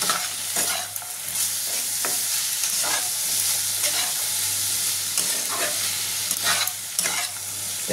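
Grated carrot and green chili lightly frying for a chicken roll filling, a steady close sizzle broken by repeated scraping stirs every second or so.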